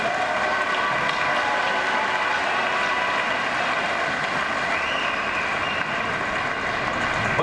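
A packed arena crowd applauds the players after a women's wheelchair basketball European Championship 2019 final involving the Netherlands. The applause is a dense, continuous roar of clapping that holds at a steady loudness from start to finish.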